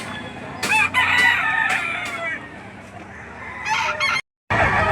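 A rooster crows loudly and repeatedly at a chicken market in Lipa City, Batangas, with other fowl and honking geese mixed into a busy background; it cuts off briefly near the end before resuming.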